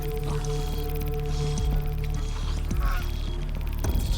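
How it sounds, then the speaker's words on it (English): A goose in the Horizon Zero Dawn video game gives several loud honks over continuous game ambience and music, fairly close. "Goose? Like a legit goose?"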